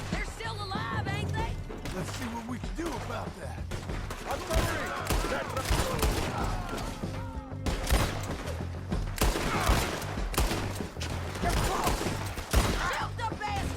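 A chaotic shootout in Red Dead Redemption 2, dense bursts of rapid gunfire and sharp impacts running throughout, mixed with shouting voices and game sound, loud and close.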